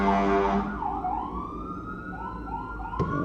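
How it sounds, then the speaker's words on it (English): An emergency siren wails for the whole span, its pitch sweeping down and rising again, loud and steady, with a brief sharp knock near the end. "worrying about the fire siren"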